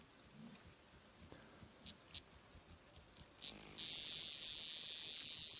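Scattered soft clicks and rustles give way to a loud, steady, high-pitched buzz from a cicada held in a hand, carrying on to the end, close by.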